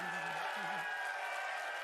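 A studio audience at an Xbox live show in London gives a short burst of applause, a steady dense clapping wash lasting about two seconds, with a voice briefly audible underneath.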